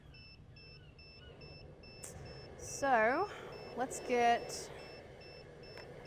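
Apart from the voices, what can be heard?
beeping from a drone flight simulator controller needing calibration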